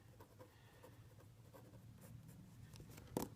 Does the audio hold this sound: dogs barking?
no